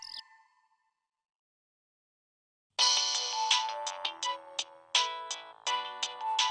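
A short tone fades out, then after a pause a bright electronic ringtone melody plays continuously, close and fairly loud, with no voices.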